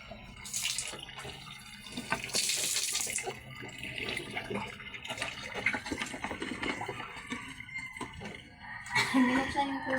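Water runs from a tap in uneven bursts, moderately close, with faint background noises and murmurs in between.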